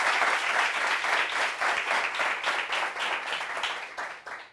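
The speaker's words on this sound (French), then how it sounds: "Applaudissements." A French TV studio audience applauds a guest arriving on set, steady close dense clapping that fades near the end.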